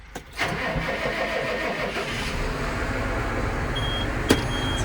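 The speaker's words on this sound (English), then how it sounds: "Made it to the tractor. Ready? Let's get it turned on." A farm tractor engine is started before a night harvest, a short cranking whir that catches and settles into a steady, close, rumbling idle, with a sharp click near the end and no talking.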